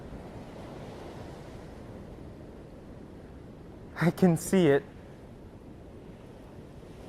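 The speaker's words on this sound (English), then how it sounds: "The white waves against the dark sky. They crash against the shore." Ocean surf rolls and crashes against the shore in a steady, wind-blown roar that fills the whole stretch, while a voice speaks briefly over it near the end.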